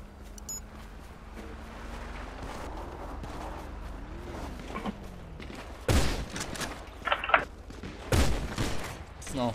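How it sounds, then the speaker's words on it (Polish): Sharp bursts of gunfire crack out in quick clusters over a steady low background hum, several shots close and loud, a few fainter ones trailing between them, in the video game GTA V roleplay. "Strzelają do mnie."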